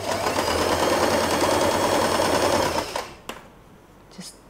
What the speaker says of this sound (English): As you can see, I start sewing from here